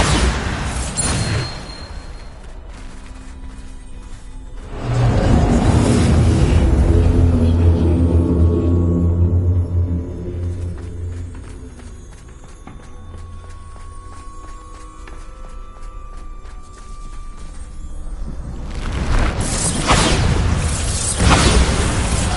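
The Bombarda spell blast in the video game Hogwarts Legacy, several loud booming explosions spaced apart over twenty seconds, each with a rumbling tail, mixed with footsteps and other action noise.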